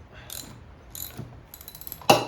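Mechanical ratcheting and clicking from a Baldor bench grinder as a fastening is loosened, a few short bursts of metallic clicks followed by a sharper clack at the end.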